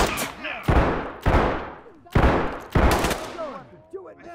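Gunfire from the tactical shooter Ready or Not: several loud, sharp shots and short bursts fired through a wall, each crack followed by a decaying echo, with brief chatter around them.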